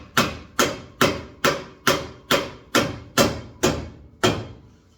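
Ten evenly spaced hammer blows tap a vehicle axle back into place, each a sharp, close metallic knock with a short ringing decay, landing at a steady rhythm with no talking.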